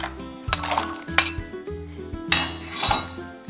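Carrots go into a metal pot of chicken meatball broth with several sharp clanks and clinks of a utensil against cookware, close and irregular, with no talk.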